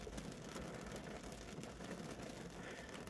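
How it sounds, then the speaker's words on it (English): Steady rain falling on a surface, a soft continuous patter heard from nearby, faint and even with no voices. "But it's raining."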